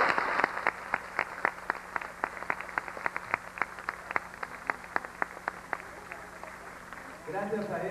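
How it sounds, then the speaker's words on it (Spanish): Audience at an inauguration ceremony claps steadily for several seconds, a moderate, fairly sparse applause of distinct individual claps heard from nearby, fading at the end as a voice begins speaking. "quiero que se lleven toda la comisión anterior este aplauso que les vamos a dar ahora"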